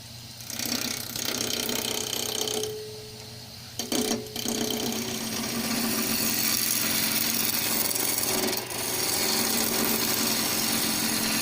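Wood lathe spinning an epoxied blank of smoked perspex segments and wood, turned cylindrical between centres: a steady mechanical whir with continuous scraping and chattering, a brief dip near four seconds, running loud and close throughout without speech.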